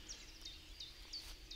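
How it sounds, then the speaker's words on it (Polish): Faint birdsong in a morning forest beside a small stream, a few short, thin chirps recurring every few tenths of a second over a low background hum. "Słychać śpiew ptaków."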